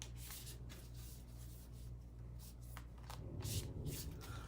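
Tarot cards shuffled by hand, a soft papery riffling and rubbing that runs steadily through the whole stretch at close range, growing slightly busier near the end, with no one talking.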